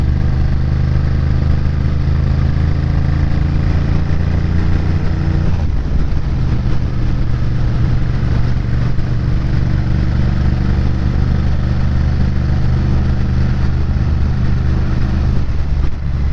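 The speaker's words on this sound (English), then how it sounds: "Oh, low, too high a gear. Big twins don't like being bogged down that much." A big twin motorcycle engine labours on the climb up Llanberis Pass in too high a gear, a loud, steady low rumble with wind noise and a slight change in pitch partway through.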